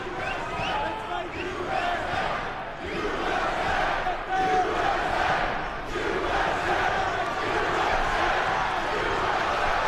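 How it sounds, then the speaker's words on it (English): A live crowd at an LFA mixed martial arts event in Nashville, Tennessee cheers and roars for a local fighter during a submission attempt in the second round. The loud, sustained, swelling crowd noise carries a commentator's voice over it. "Fans cheering on local Nashville, Tennessee's Derrick Sanders"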